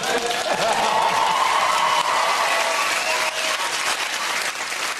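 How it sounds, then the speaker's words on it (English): A television quiz show studio audience breaks into sustained applause, a thick, even wash of clapping that holds loud throughout with faint cheering mixed in. "It's the first applause I got in the whole bloody show"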